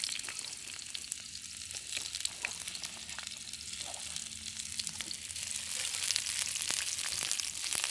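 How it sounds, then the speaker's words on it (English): Ginger, onion and garlic stir-frying in a pan with a steady close sizzle and occasional stirring scrapes, continuous and fairly quiet throughout. "And I stir fry the ginger and onion and the garlic first."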